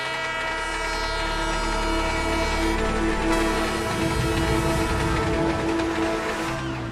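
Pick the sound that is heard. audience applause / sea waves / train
train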